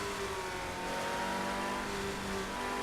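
A race car engine in the Project Cars 2 racing game drones steadily at high revs with a constant, close, loud pitch and no real pauses, as the car is test driven with twitchy, more responsive steering.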